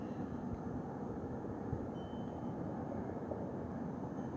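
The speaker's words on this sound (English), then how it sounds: "Now it's a 7th airplane out here?" An airplane passes overhead on a cold night, heard as a steady, broad, distant rumbling drone that holds evenly throughout with no talking.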